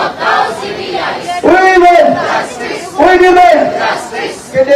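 Protesters at a demonstration over the RG Kar Hospital case in Kolkata chant slogans in loud, rhythmic call-and-response bursts, a crowd of many voices repeating phrases together.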